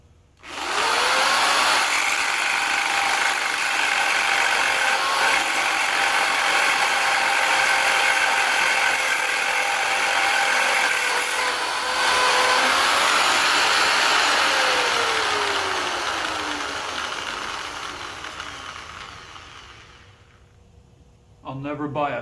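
A drill with a keyless chuck bores a new mounting hole through the metal of an exhaust bracket. A loud, steady whirring grind holds for about twenty seconds, then trails off and briefly stops near the end.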